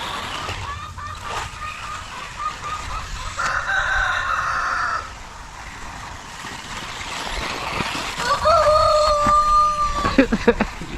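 Chickens squawk and a rooster crows at an outdoor RC car bash, with clucking and harsh calls rising in bursts and a clear crow near the end, fairly close and loud.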